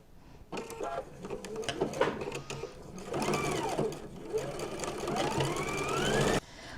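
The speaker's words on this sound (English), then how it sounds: "We're going to sew up both sides the width of the foot." A sewing machine stitches up both sides of fabric placed right sides together, running in fast rattling bursts that stop and restart, with a longer sustained run near the end before it cuts off abruptly.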